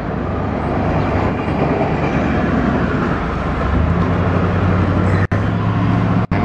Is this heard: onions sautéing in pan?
no